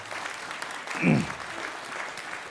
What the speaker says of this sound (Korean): 이제 학부 졸업생들을 위해 다 함께 박수로 축하해 주시기 바랍니다.